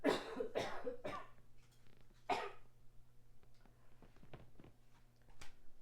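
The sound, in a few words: coughing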